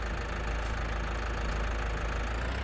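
A tractor engine idles in Farming Simulator 19 with a steady, low, chugging rumble throughout, close and constant, with no talking.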